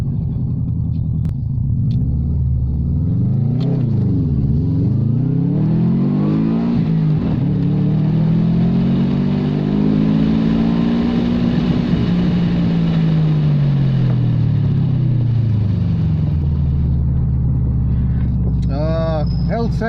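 A Subaru Impreza engine revs hard in a sprint run, rising and falling in pitch through several gear changes, loud and close throughout, with a sustained high-rev climb to the rev limit in second gear before easing off.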